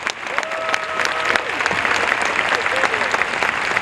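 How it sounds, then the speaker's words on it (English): Audience applause for award recipients at a Louisville Urban League Guild 75th anniversary celebration, steady dense clapping from a crowd filling the room throughout, with a few brief whistles rising above it. "give a rousing round of applause for all of our award recipients"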